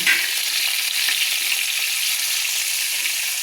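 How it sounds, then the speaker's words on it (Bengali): Papaya pieces fry in hot oil, an even, loud, close hiss of bubbling oil that continues unbroken with only faint crackle. "পেঁপেটাকে লাল লাল করে একটু ভেজে নেওয়ার জন্য"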